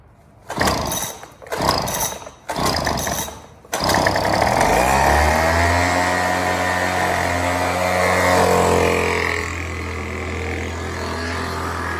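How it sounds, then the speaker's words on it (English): A small gas leaf blower engine, primed and choked, sputters through a few pull-start attempts, then catches and runs steadily with a loud, buzzing drone that eases slightly near the end. "Get our handy dandy leaf blower."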